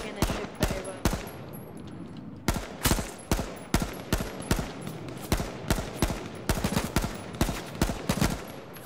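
Rapid gunfire in the H1Z1 survival game, sharp repeated shots arriving in quick bursts and steady strings, fairly close and punchy, with a short pause near the middle before firing resumes.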